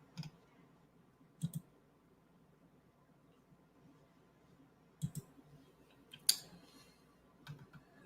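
A computer mouse clicks a handful of times, sparse and faint with long quiet gaps between the sharp ticks, and no voices.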